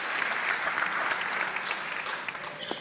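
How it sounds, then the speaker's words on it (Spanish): Sustained applause from a conference audience for the chief economist at an annual investment strategy meeting, dense even clapping throughout, easing slightly toward the end. "un fuerte aplauso para el economista jefe"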